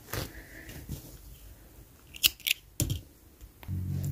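Scissors snip through knitting yarn while finishing a hand-knit hat, giving a few sharp, close cuts with handling noise between them and a brief rustle at the end.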